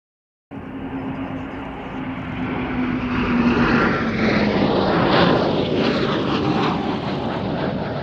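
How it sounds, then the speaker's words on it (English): A Eurofighter Typhoon jet roars past at an airshow, a loud sustained rumble that swells as it nears and then holds steady, with a falling engine whine as it goes by. "the Typhoon display team have chosen to perform a fly past"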